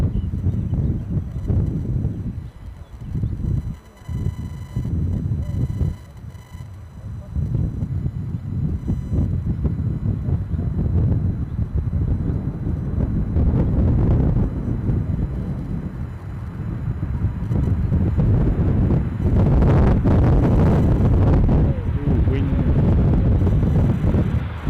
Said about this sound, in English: a mighty gust of wind